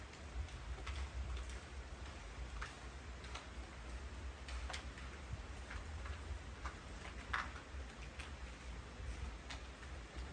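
Faint, steady rain falls at a house under construction, a soft continuous wash with scattered ticking drips striking a surface at irregular intervals.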